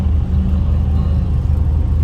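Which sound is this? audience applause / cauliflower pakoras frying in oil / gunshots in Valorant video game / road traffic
road traffic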